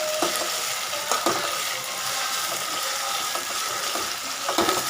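Green chillies sautéing in hot oil in a pan for a traditional home-cooked dinner, giving a steady, close, dense sizzle with occasional clinks of stirring.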